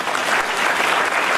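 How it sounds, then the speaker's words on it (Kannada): A crowd of listeners applauds at a police house-to-house outreach inauguration speech in Vijayapura, a dense, steady wash of clapping that stays loud and even from start to finish with no talk over it. "ಅವರಿಗೊಂದು ನಮ್ಮದು ಜೋರಾದ ಚಪ್ಪಾಳೆ ಇರಲಿ"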